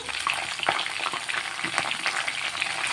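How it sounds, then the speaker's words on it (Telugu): Brinjals fry in a little oil in a pan, a close crackling sizzle with a few stirring scrapes, short and steady, no talking. "కొంచెం లో ఆయిల్లో ఫ్రై అవ్వాలండి వంకాయలన్నీ"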